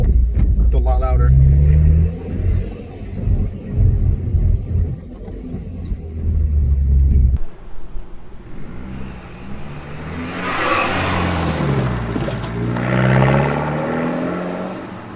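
A BMW F30 fitted with an MST air intake revs in sport mode, with loud, close engine rumble swelling and falling through several throttle blips while someone speaks over parts of it.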